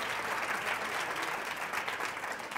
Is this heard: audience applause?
yes